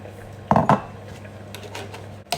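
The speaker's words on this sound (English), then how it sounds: "Give it a good mix together." Eggs and milk being mixed with a spoon in a jug, giving two quick clinking knocks close up, then a quieter scrape and a final clink.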